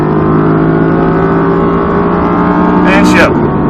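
Audi R8 V10 Plus on a track at Speed Vegas, its engine holding a loud, steady drone throughout with a brief burst of extra noise near the end, while a voice talks over it.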